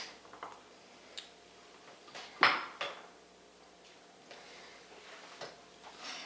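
Crab meat is stirred into Newburg sauce in a pan, producing soft, scattered scrapes and clinks of a utensil against cookware, with one sharper clatter partway through amid an otherwise quiet background.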